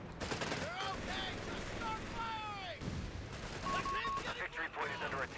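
Heavy machine gun fire and battle noise from a Company of Heroes 3 match, with rapid bursts and explosions running continuously and loud throughout, mixed with other combat effects.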